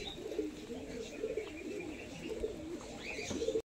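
An Andha Fulshira pigeon pair coos in soft, repeated low calls that roll on steadily and close by, with no voices over them.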